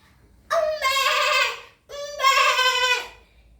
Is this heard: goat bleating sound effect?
yes